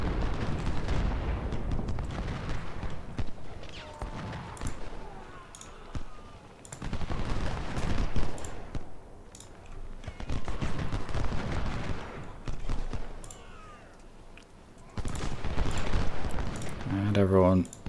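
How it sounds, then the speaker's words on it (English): Massed rifle volleys crackle and rumble in waves during a video game battle, with dense bursts of fire rising and fading under a voice talking. "And everyone is firing at the right people."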